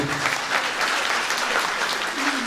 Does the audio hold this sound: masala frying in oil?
no